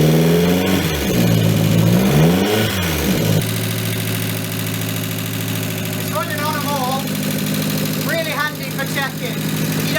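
A 1.6 TDI diesel engine with head gasket trouble revs briefly after starting, then settles into a close, steady idle with a dry tapping clatter running through it, while a voice talks over the engine noise.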